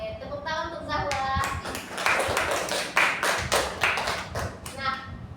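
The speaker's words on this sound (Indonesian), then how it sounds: "Oke, tepuk tangan untuk Zahwa." Classroom applause for a student, a short burst of brisk clapping from a group that tapers off, with a teacher's voice and children's voices over it.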